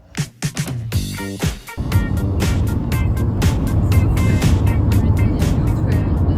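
A car on a road trip in Japan: after a few sharp door and cabin thumps, a steady engine and road rumble settles in, loud and continuous from inside the vehicle.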